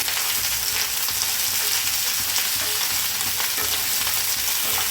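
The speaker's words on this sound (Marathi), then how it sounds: "आता भेंडी भाजून घेऊया तेल ते उरलेलं आहे थोडस तर त्याच्यातच आपण भेंडी भाजून घेऊया" Okra stir-frying in a little leftover oil in a pan gives a loud, continuous sizzle that stays steady throughout, with faint stirring scrapes and no voices.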